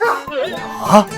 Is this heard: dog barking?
yes